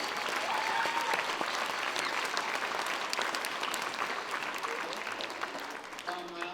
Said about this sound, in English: So let's give a round of applause for those folks.